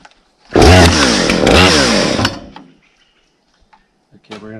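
A Husqvarna 460 Rancher chainsaw roars loudly up close for about two seconds, surging and dipping in pitch, then cuts off abruptly, leaving faint ticks and clicks.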